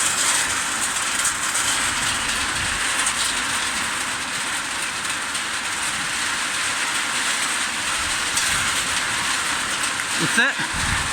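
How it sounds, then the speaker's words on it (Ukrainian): A heavy spring downpour roars as a dense, steady hiss from start to finish. A brief knock comes near the end. "Це дощара."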